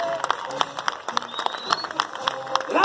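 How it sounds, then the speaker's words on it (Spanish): A crowd at a religious parade in honor of the Virgin claps in scattered, uneven bursts for a flag bearer, under an announcer's loud voice over a sound system. "que exploten las palmas"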